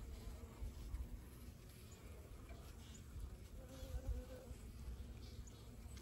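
Honey bees of a strong VSH colony in February hum steadily as a hive is opened, a dense low drone with occasional louder swells, close and continuous with no talk.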